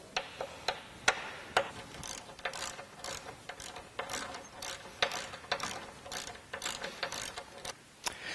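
A ratchet turns a Torx T55 bit to remove factory frame bolts on a Jeep Wrangler, giving close, quick bursts of sharp metallic clicks in an uneven rhythm.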